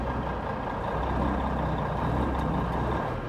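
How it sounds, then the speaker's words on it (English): Air fills a trailer's air suspension, raising it off the ground: a steady, loud hiss and rush of air over a low idling truck rumble, continuous for the whole stretch without speech. "when you engage the air, apply the air, it'll fill it back up and it'll raise everything off the ground"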